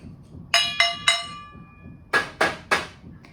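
A plastic household item is struck with a drumstick in a series of six close, sharp hits: three ringing taps followed by three duller, noisier knocks, with quiet gaps between them.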